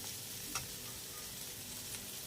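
Onions frying in a pan give a soft, continuous sizzle with one brief stirring clink near the start.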